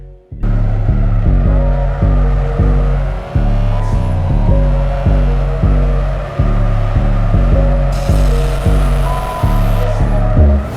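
A car engine in a mobile racing game, driven and drifted through traffic, roars steadily and loudly with a repeating pattern of revving up and shifting gears, synthetic and continuous throughout.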